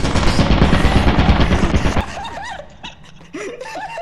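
Gunfire from a gun picked up in the co-op horror game Lethal Company: a loud, dense rattle of close shots lasts about two seconds, then stops and gives way to laughter and chatter.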